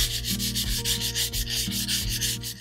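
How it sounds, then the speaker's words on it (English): Brass tubes from a resin kit being sanded by hand, a rhythmic rasping rub repeating several times a second, close and steady, with no talking. "they need to be sanded down a little bit to give it a bit of a rough edge so that the resin has something a bit more substantial to adhere to"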